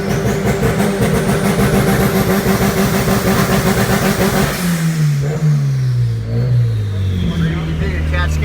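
A tuned B20 car engine revs hard under load, loud and close with a dense, rising roar, then drops away into a falling deceleration pitch over the last few seconds.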